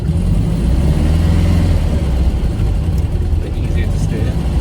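A Volkswagen Beetle project car with a very high clutch bite rolls around a yard on its first drive, its engine a steady, loud, close rumble that holds unbroken throughout.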